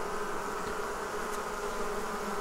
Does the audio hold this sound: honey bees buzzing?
yes